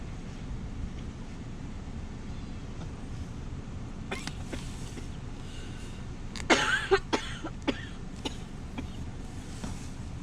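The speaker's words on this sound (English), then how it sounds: "Person you hear coughing in the background, that's my wife." A woman coughs a few times somewhere in the background of a quiet room, faint sharp bursts over a steady low hum.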